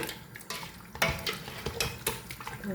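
A spoon stirs salt through mutton biryani in a pot, making quiet, irregular scrapes and metallic clinks with a faint background hiss.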